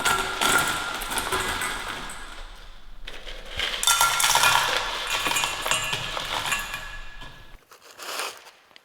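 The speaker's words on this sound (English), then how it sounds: "In the other 2 bowls, I'm going to add my ice." Ice pieces tumble and clink into bowls on a hot day in a home kitchen, a run of clattering chinks and knocks, close and loud, then a short pause and a final scrape.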